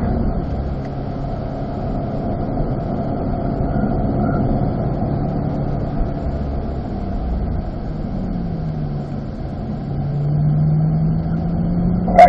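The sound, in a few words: Corvette engine driving and accelerating on race track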